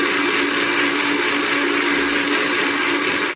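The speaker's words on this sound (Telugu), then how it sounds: "తర్వాత కొన్ని జీడిపప్పులు వేసుకొని మిక్సీలో వేసుకొని గ్రైండ్ చేయాలండి" Cashews being ground in a mixer grinder, a loud steady high-speed whir running continuously up close before cutting off abruptly at the end.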